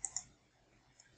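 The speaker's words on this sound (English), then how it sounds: "Now I click on this one." Two sharp computer mouse clicks land close together near the start while selecting an item in an Android app tutorial, followed by a quieter third click about a second later, close and dry with no talking.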